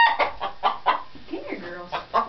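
Young orphaned chickens clucking in a rapid, uneven series of short, close, fairly loud clucks and chirpy calls, with no one talking.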